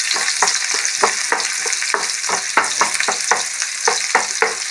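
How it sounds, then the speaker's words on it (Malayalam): Onions frying in coconut oil in a pan, a bright continuous sizzle close up, with regular scraping strokes of a spoon stirring through it and no talking. "അതിൽ ഞാൻ സവാള ഇടുന്നു"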